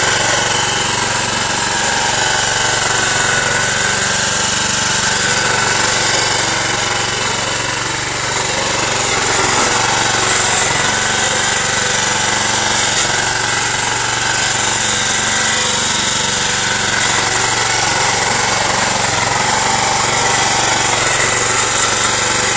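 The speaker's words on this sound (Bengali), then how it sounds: "এই যে দেখেন এখানে জঙ্গলে আমরা মেশিনটি চালালাম" A homemade lawn mower machine cuts grass in an overgrown patch, its engine and blade roaring loud and steady throughout with a harsh, rattling drone.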